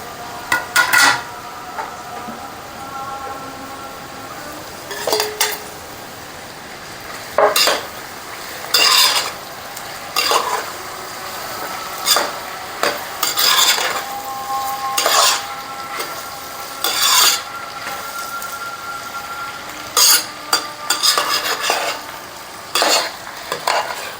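Tomatoes stirred into a cooking pot for Hyderabad-style vegetable soya pulao, with a steady background sizzle broken by frequent scraping and clanking stirs of a utensil against the pot, close and fairly loud, with no voices.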